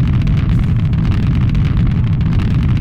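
A continuous, heavy explosion roar fills the whole moment in Garry's Mod, loud and dense with deep rumbling and no voices.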